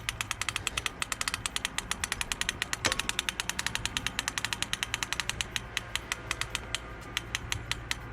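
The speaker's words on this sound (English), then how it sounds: "it's on a ratchet system, then you just start winding it towards you" A ratchet mechanism clicks rapidly and evenly as a garden table parasol canopy is wound open, a steady run of close, crisp ticks throughout with no talking.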